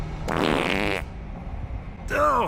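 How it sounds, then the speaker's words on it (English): Loud, blaring fart sounds come from an animated Batman and Harley Quinn film scene, one long buzzing burst, then a pause, then a second shorter rasp, close and prominent. "Harley Quinn is sitting in the back seat making these really loud farts"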